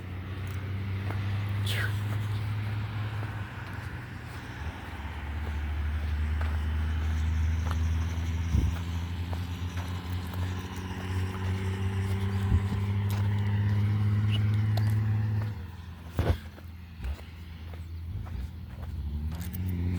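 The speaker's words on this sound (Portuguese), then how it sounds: "Olha os carros aí passando na pista." Steady engine drone and tire rumble from cars moving along a road through open countryside, a continuous low hum that swells and fades as vehicles pass, with a few faint knocks and rustles nearby.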